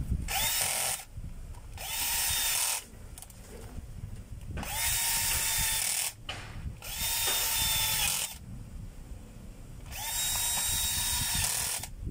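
Power drill driving screws during a wiring job: five loud whirring bursts of one to two seconds each, separated by short pauses, close by with no speech.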